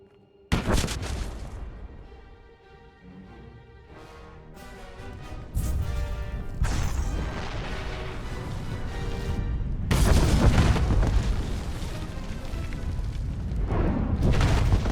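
A bomb goes off in a Star Wars game set on Corellia: a sudden loud boom, then a rumbling roar that swells into heavy, sustained explosive blasts and debris.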